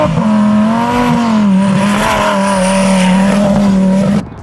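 A 1,500 horsepower twin turbo Lamborghini Sterrato drives hard, its loud, near engine holding a strained, wavering tone with a high squeal over it, steady for about four seconds before cutting off.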